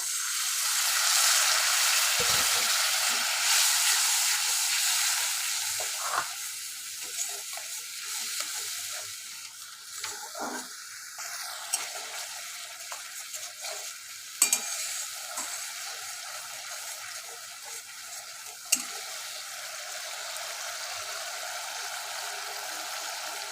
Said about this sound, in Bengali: এবার একটু জল দিয়ে মশলাটা কষিয়ে নেব।